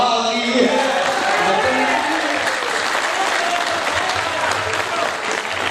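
Sustained audience applause at an Indian kavi sammelan poetry recital in Rajnandgaon, Chhattisgarh, a dense, steady clatter of many hands clapping that fills the hall at an even level throughout.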